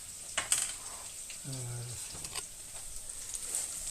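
Browned meat for a Ukrainian plov sizzles in a pan and is stirred briefly. A steady hiss of frying sits close up, with a few scrapes and a short vocal sound partway through.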